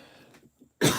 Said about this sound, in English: Oh my gosh, this cough.